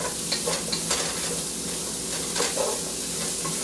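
Jambalaya sizzles and fries steadily in a pan, with a few scraping stirs now and then, close up and with no talking.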